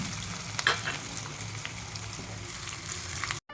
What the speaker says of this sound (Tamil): இப்போ கடுகு நல்லா வெடிக்குது